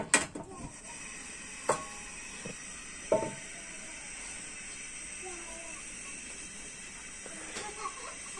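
Water yam (abre) akara batter frying in hot vegetable oil gives a steady, close sizzling hiss, with a few clinks of cookware and a voice speaking over it.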